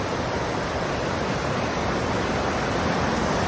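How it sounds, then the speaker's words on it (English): Bassi Falls, a 150-foot waterfall in the Sierra Nevada mountains, roaring close by from directly beneath in a loud, steady, unbroken broadband rush. "150-foot waterfall."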